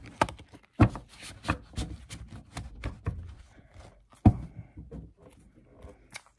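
Tarot cards being shuffled by hand, a series of irregular soft riffling and tapping bursts with sharper knocks, close and fairly quiet, with no talk.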